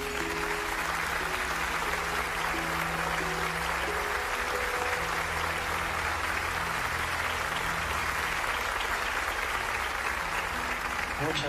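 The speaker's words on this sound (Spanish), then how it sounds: "Les pido también un aplauso muy caluroso para nuestro amigo y compañero" A large audience gives warm, sustained applause for a friend and colleague at a public talk, a continuous wash of clapping with faint tonal sounds and murmuring underneath throughout.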